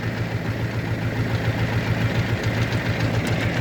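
A DTZ 5404 tractor engine runs steadily while pulling discs through damp field soil, a loud, continuous low diesel drone with a throbbing rumble and no breaks or voices.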